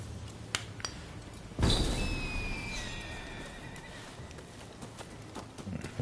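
In a video game, a horse whinnies loudly after a few hoof clicks, its neigh trailing off over several seconds amid soft ambient noise.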